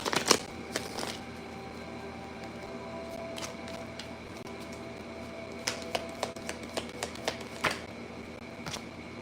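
Tarot cards are shuffled in quick bursts of riffling and sharp flicks, with a quieter pause in the middle before more crisp snaps.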